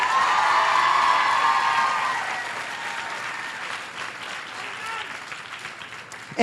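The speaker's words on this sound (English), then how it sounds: "how about a round of applause?" A college commencement crowd breaks into full applause with some cheering and whoops, strong at first and then gradually thinning and fading.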